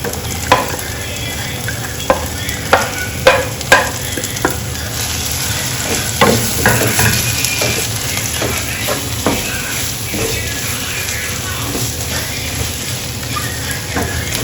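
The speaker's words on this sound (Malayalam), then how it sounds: "കല്ലുമ്മക്കായ ഇട്ടതിന് ശേഷം നന്നായിട്ടൊന്ന് ഇളക്കി ഒന്ന് യോജിപ്പിച്ച് കൊടുക്കുക" Fried mussels being stirred into a sizzling biryani masala in a pan for Kerala-style Malabar mussel biryani: a steady hiss of frying with a run of sharp spoon scrapes and knocks in the first few seconds, then gentler stirring, close and alone.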